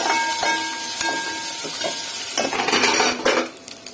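Ingredients dropped into hot oil for a Tamil-style thokku with greens, beans, carrot and prawns, sizzling with a steady loud hiss and crackle close up, alongside the clink of a utensil against the pan.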